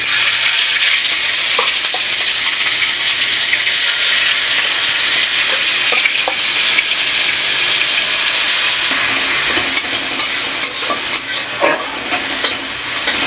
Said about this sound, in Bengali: তেলের ভিতরে আমি কালো জিরে ফোড়ন দিয়ে দেবো। দিয়ে দেবো পেঁয়াজ বাটা।